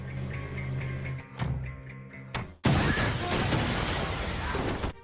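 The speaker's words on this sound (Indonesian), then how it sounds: "drone itu pun lantas menembakkan sebuah peluru khusus untuk bisa menghancurkan kaca anti peluru" A special bullet smashes bulletproof glass in an action film scene: a sudden loud shatter cuts in after tense music and brief impacts, followed by a dense spray of breaking glass and debris.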